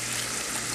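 Chicken stock pours into a pot while making homemade baby food with chicken, apples and sweet potato, a steady rushing liquid hiss filling the brief moment without pause.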